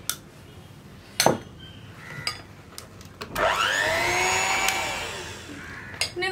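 An electric mixer blends sugar into plum cake batter: a few knocks and clatters first, then the motor whirs up to a steady, fairly loud whine that holds for several seconds.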